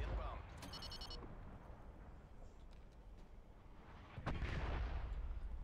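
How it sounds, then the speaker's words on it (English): An artillery strike in Call of Duty Cold War lands as a sharp boom followed by a rumbling tail, preceded by a quiet stretch with a short electronic alert beep. "Artillery inbound."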